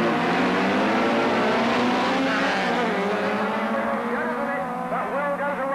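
Rallycross race cars, a VW Beetle among them, pull away from the start line at Lydden Hill in 1985, engines roaring loud and close with rising revs and overlapping exhaust notes.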